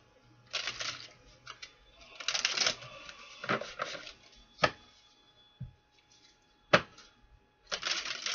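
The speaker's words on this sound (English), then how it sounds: "Let me just do three more shuffles here." A deck of tarot cards shuffled in several separate bursts of riffling and sharp snaps, with quiet pauses between them.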